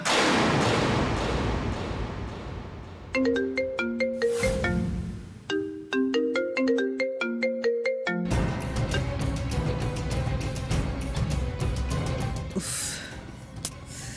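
A phone ringtone plays a repeating electronic melody in two bursts, loud and close, followed by dramatic music from a Bengali TV serial.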